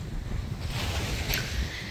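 Sea waves at a beach wash in a steady, rushing roar under heavy wind noise buffeting the microphone, with a brief brighter swell near the end and no voices.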